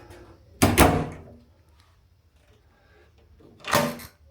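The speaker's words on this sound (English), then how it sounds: "That locks the door." Hotel room door at HG Tenerife Sur in Los Cristianos, Tenerife: a sharp close with a clunk, then a pause and a second firm latch or lock thud, close and alone in a quiet room.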